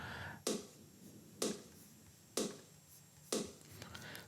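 Snare sample from a Production Music Live pack, drenched in reverb, four evenly spaced sharp hits each trailing into a long, washy tail, fairly quiet overall.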